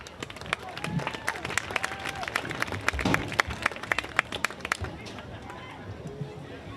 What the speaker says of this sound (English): let's give another round of applause for the 2024 Hillsdale Homecoming Court